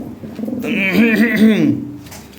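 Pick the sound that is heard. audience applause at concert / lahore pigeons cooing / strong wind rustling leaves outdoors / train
lahore pigeons cooing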